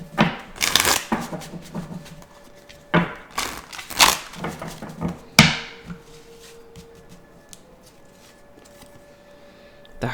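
Tarot cards are shuffled close up in several quick riffling bursts separated by short pauses, with sharp slaps as the deck is squared, followed by quieter handling.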